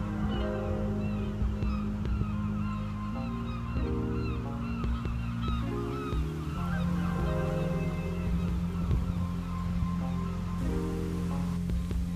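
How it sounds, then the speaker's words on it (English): Several seagulls squawk and call over one another in a noisy squabble near Dudhope Castle in Dundee, with a steady low background hum running underneath throughout. "There's a seagull Rammy going on about something."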